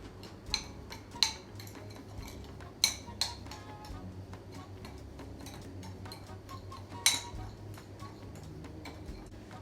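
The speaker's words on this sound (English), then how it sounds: "Now I'm just going to mix that together." Cinnamon and sugar mixed together in a bowl with a utensil produce faint, sparse ticking taps and light clinks scattered over a soft background hum, close but quiet.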